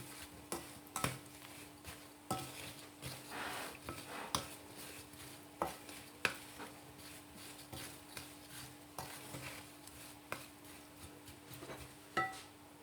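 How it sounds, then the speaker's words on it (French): A spoon stirs date jam in a pot, giving soft, irregular scraping and clinking strokes, close and fairly quiet, repeating every second or so with no talking. "Voilà, en attendant, je mélange."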